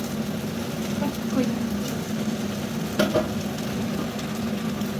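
Chowmein with vegetables stirred in a frying pan, a steady loud sizzle with a utensil scraping and tossing through it, a louder clatter near the middle, and a voice talking over the cooking.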